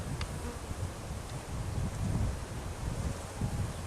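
Honeybees buzz around a hive on a mid-November day, a constant faint drone with soft rustling and light wind noise throughout.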